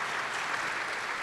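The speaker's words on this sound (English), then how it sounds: "give her a round of applause." A crowd at an association gathering applauds in a brief, steady burst, many hands clapping together at fairly strong volume.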